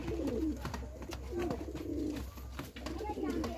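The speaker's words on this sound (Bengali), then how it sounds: "এটাও পুরানো জেনারেশনের পায়রা আছে।" Old-generation Giribaz pigeons coo in repeated low, rolling phrases, close by and fairly loud, with a steady background hum throughout.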